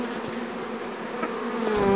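Honeybees buzzing at a traditional log hive (karakovan) during a honey harvest in Korualan, Gezlevi, with combs being knocked loose; a steady, close insect drone with a rising tone toward the end.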